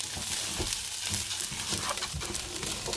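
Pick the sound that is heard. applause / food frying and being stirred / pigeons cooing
food frying and being stirred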